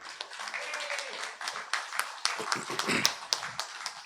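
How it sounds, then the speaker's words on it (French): A church congregation claps for the choir, with scattered uneven hand claps that stay fairly quiet and sparse rather than building into full applause. "j'aimerais qu'on les applaudisse parce qu'ils font tellement une belle job"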